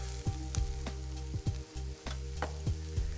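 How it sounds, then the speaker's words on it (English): Onions and mushrooms sautéing in grapeseed oil: a steady sizzle with a low steady hum underneath and regular scraping knocks as the food is moved around the pan, with no talking. "Now we're going to saute this, move it around just until the onions begin to soften"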